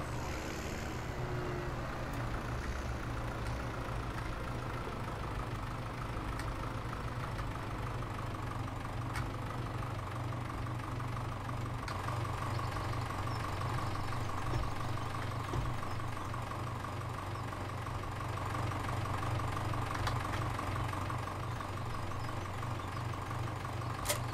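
A mower engine idles steadily in Farming Simulator 17, a constant low drone holding at even loudness throughout with no talking.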